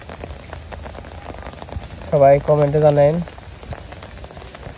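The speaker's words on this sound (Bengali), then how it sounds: "আজকে মোটামুটি সারাদিন বৃষ্টি হইতেছে" Steady rain falls on a Bangladesh village throughout, a soft continuous patter, with someone talking briefly in the middle.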